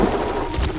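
A short, loud, dense burst of gunfire from Call of Duty: Warzone, sounding like rapid automatic shots in a battle royale match.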